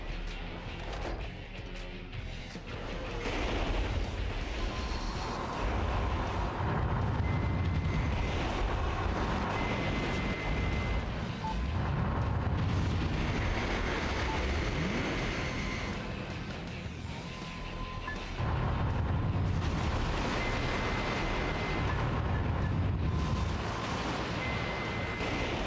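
Missiles exploding in the video game Metal Wolf Chaos XD, a dense and loud barrage of booming blasts that swells in repeated waves over a constant roar.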